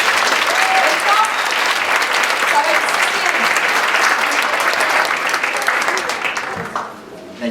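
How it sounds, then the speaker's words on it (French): Audience at a college talent show final applauding the judges, sustained loud clapping for several seconds with a faint whistle early on, fading quickly at the end. "Donc, on les applaudit, s'il vous plaît."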